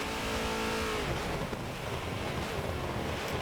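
Race cars in a racing video game roar down the back straight in a pack, giving a loud, continuous engine drone with a falling pitch sweep as one car passes. No one speaks.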